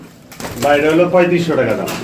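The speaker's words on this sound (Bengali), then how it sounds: "ব্ল্যাক কালার পোটার কবুতর খুবই চমৎকার" A black pouter pigeon gives a soft, throaty coo lasting about a second, close by, with voices murmuring around it at a pigeon sale.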